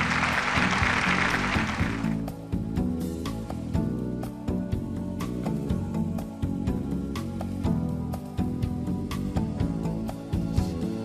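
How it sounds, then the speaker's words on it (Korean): Audience applause at a 2018 Korean beauty pageant ceremony: a dense, loud burst of clapping for about two seconds that then gives way to music. "내셔널 디렉터 현대곤님, 또 사단법인 사람의 이문열 이사장님, 큰 박수로 무대에 모시겠습니다."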